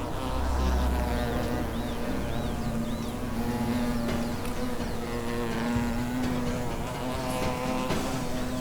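Invasive hornets buzz continuously with a steady, droning hum that stays loud and close throughout, with no talking.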